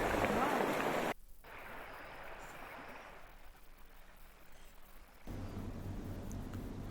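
After two days of rain in Uttarakhand, water runs through the Mahadev drain with a steady, hissing outdoor rush that is fairly faint. It is broken by abrupt cuts between louder and quieter stretches.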